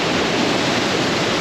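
Kundal Shahi waterfall in the Neelum Valley roars up close, a loud, dense, unbroken rush of falling water that fills the whole moment without any voices.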